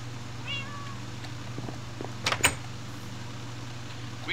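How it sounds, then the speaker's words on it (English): A faint, high meow from a cat in Minecraft rises briefly over a steady low hum, followed by a couple of soft knocks; no talking. "I hear a cat, guys."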